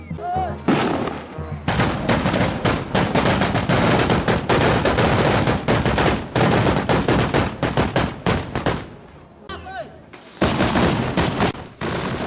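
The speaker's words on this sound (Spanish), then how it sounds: "La reventación de camaretas y cohetes es impresionante" Powder-charged camaretas packed with adobe and gunpowder, plus festival rockets, exploding during a December town celebration, a dense, loud barrage of booming blasts and crackling bursts, near and continuous with only brief gaps.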